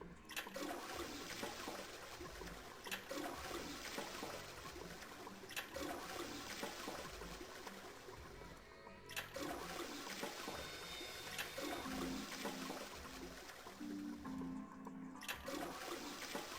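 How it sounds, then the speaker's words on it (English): A toilet flush in the Nonary Games video game rushes on as a long, steady surge of water that swirls and trickles throughout, with brief dips before the flow resumes. "I heard a loud flushing noise."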